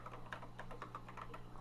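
Typing on a Texas Instruments computer keyboard, a steady run of close, light key clicks over a low constant hum.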